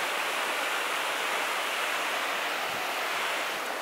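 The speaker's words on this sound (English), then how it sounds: "I love waterfalls." Waterfall beside a hiking trail, a steady, broad rush of falling water that stays close and constant throughout, with no voices over it.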